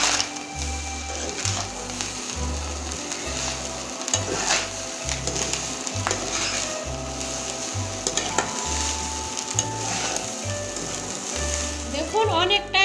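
Leftover rice frying in ghee in a pan as it is stirred. A continuous sizzle runs under rhythmic scraping and clinking of a utensil against the pan, with a regular low mechanical pulsing throughout.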